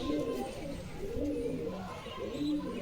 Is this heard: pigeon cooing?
yes